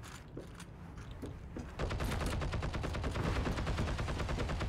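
Gunfire in the Heroes & Generals video game: a few scattered sharp shots at first, then a sustained, dense rattle of rapid machine-gun fire that continues loudly to the end.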